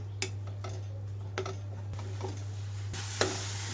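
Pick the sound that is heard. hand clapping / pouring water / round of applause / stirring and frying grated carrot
stirring and frying grated carrot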